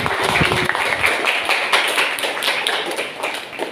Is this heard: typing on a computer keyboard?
no